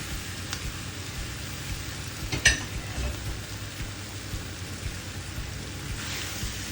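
Italian sausage meat sizzles steadily in a hot pan, a close, continuous crackling fry broken by occasional scrapes and clinks as it is stirred and broken up.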